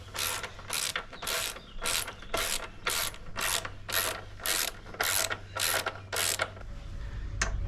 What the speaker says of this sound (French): Clé à douille, c'est parti.